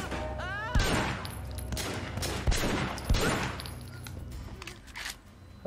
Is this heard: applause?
no